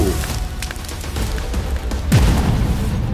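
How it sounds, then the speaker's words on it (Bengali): A cartoon explosion bursts as a witch's weapon strikes a magic protective shield, a loud boom with a descending swoosh in the middle of a rumbling, noisy magical battle scene. "ডাইনির অস্ত্র তান্ত্রিকের বলয়ে লেগে ধ্বংস হয়ে গেল"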